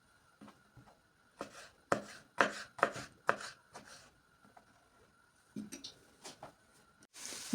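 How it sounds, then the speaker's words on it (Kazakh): A knife chopping tomatoes on a board gives a quick run of crisp, close taps, pauses, then a few more scattered cuts. "Енді помидор тураймыз."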